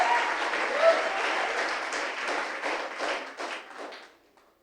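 A church congregation in Manila claps loudly in steady, dense applause that holds for several seconds, then fades away.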